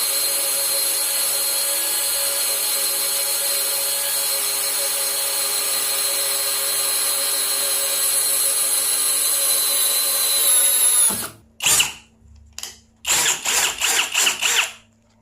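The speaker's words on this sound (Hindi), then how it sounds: "यहां पर हमारा ड्रिल बहुत अच्छे से हो रहा है।" A brushless cordless drill bores steadily into iron with a loud, constant whine for about eleven seconds, then cuts out and gives a few short, choppy bursts of running.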